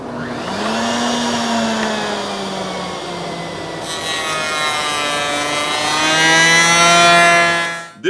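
A router table fitted with a two-cutter coping bit with a ball bearing runs with a steady high motor whine, then grows rougher and louder midway as it cuts through a wooden test piece, before winding down at the end.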